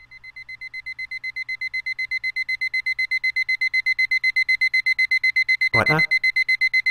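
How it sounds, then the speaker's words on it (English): A rapid, steady beeping alarm clock rings in the video game Sound of Drop, repeating evenly throughout at close range, with a brief vocal outburst interrupting near the end. "Sound of my alarm clock"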